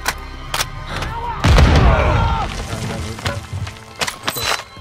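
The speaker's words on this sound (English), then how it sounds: "Tossing frag!" Frag grenade explosion in a video game, a heavy booming blast with crackling debris that tails off, surrounded by scattered gunfire and game noise.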